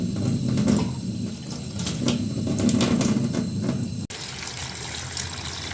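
Water pours steadily over cleaned cauliflower in a home kitchen, a continuous close splashing stream that thins into a softer trickle near the end, with no voices.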